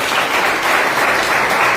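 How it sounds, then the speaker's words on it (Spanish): A church congregation bursts into loud, sustained applause, a dense steady wash of many hands clapping throughout. "Dale un aplauso fuerte al Señor."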